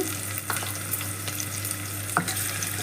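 Ginger garlic paste frying in oil with curry leaves and slit green chillies, for a tomato and brinjal curry, makes a steady close sizzle broken by a few soft stirring clicks.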